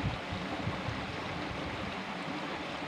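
River water flowing steadily near a village bathing spot below forest, a continuous broadband rush with no pauses, moderately loud and close, with no voices.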